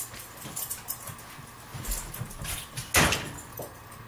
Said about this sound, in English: Gordo, open the door.